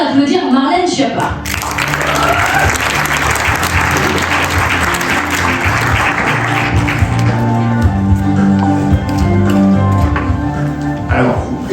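An audience at a Press Club humour and politics awards evening applauds Marlène Schiappa as she comes on stage: sustained, dense clapping for the whole stretch, with voices talking over it and a steady tonal layer underneath toward the end.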